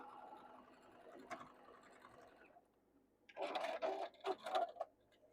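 A sewing machine stitches a seam on a modern Tula Pink quilt block. A steady, moderate mechanical hum runs first, then pauses before louder, choppy bursts of stitching close by, with no talking.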